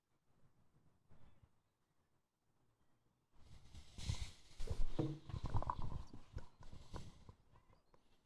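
Polo ponies' hooves thud and drum on the grass field during a Prince of Wales polo match, a few faint early beats then a louder, irregular burst of galloping close by.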